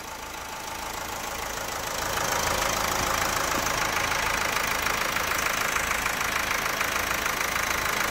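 Opel Insignia A with the 1.6 CDTI diesel engine running after a timing chain repair, a steady close idle with a faint knocking clatter that rises slightly in level after the first couple of seconds and then holds even.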